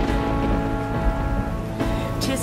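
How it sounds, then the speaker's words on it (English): Steady heavy rain with low rumbles of thunder fills a midnight storm at sea, a dense and continuous wash of sound with no voices. "It was midnight on the waters, and a storm was on the deep."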